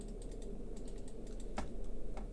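Computer keyboard keys tapped in quick, irregular bursts during a Syberia 3 play session, soft clicks running steadily over a low background hum with a slightly sharper press near the middle.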